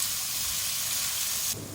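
Chopped onions sizzle in hot oil in a pan for a bhuna keema, a loud steady hiss that fills the moment and then eases slightly near the end, with no talking.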